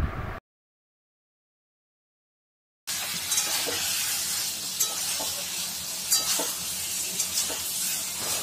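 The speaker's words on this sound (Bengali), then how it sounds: "পুরোটা আবারও খুব ভালোভাবে মিশিয়ে নিয়ে কষতে থাকবো কিছুক্ষণের জন্য।" Fried taro and prawns are stirred in a pan, giving a steady sizzling hiss with occasional clinks and scrapes of the utensil, after a short gap of silence near the start.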